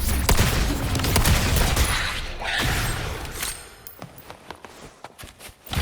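Rapid gunfire bursts in the video game Wuthering Waves, a dense loud volley at first that breaks into separate sharp shots with a few footsteps and mechanical clicks between them.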